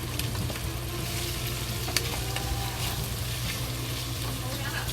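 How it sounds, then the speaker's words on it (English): Ham slow frying in oil with onion and ginger, a dense continuous sizzle close up, with faint scattered clicks and a low steady hum underneath. "So we added the ham into it to slow fry"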